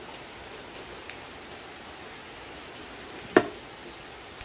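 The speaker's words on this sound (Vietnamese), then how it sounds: "trời đang mưa rất là lớn mọi người nhé" Heavy rain pours steadily over a rambutan orchard in Thailand, a soft continuous hiss with a single sharp knock partway through and no talking.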